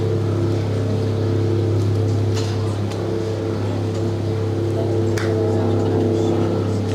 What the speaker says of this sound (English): Hear the roar of the engines in the backdrop there in the Wisconsin River